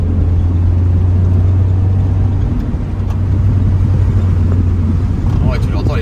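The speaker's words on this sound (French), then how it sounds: "tu l'entends les petits retours qu'elle lâche" A Honda CRX with a 1.6 i-VTEC engine rumbles loudly and steadily up close, with a few small exhaust pops and crackles faintly scattered through the drone.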